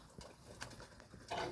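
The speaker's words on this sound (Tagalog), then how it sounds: "Nag-aagawan sila mga kalapatids" Pigeons coo softly and shuffle against one another as they scramble for food at a morning feeding, a faint, close murmur of low calls with small bursts of movement.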